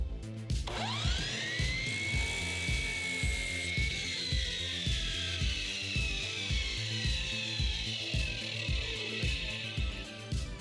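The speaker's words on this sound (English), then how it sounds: "We used a miter saw to carefully cut the boards." A power saw, likely the miter saw, cuts MDF boards for wall slats: a high whining tone with falling pitch bends sits over a steady rhythmic low pulsing that runs throughout, close and loud, with no talk.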